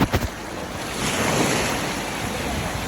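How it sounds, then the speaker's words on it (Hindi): Strong sea water rushes at a Maldives beach, a loud continuous roar of surf mixed with wind buffeting the microphone, swelling slightly midway. A couple of sharp bumps open it, and no one speaks. "ये देखिए पानी बहुत तेज़ आ रहा था"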